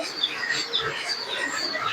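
Teddy pigeons of good quality chirp and coo in short, high, thin calls that repeat several times at moderate distance, with no talk.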